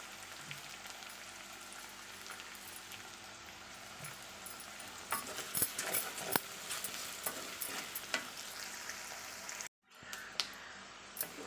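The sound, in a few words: onions sautéing in pan with salt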